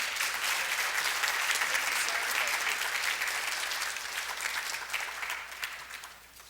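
An audience applauds steadily to welcome Dr. Jill Derby to the podium at a talk in Colorado Springs, a dense close clapping that holds for several seconds and then tapers off.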